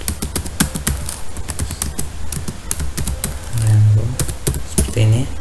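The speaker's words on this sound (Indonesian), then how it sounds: "kita ketikkan nama lengkap" Rapid typing on a computer keyboard while filling in a name field in an online form, dense close clicks running throughout, with a voice speaking over the latter part.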